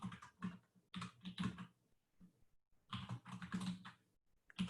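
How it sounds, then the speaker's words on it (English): Close, clear keystrokes on a computer keyboard come in quick bursts of clicks separated by short pauses while matrices are entered, with no talking. "we're just typing out a lot of matrices here"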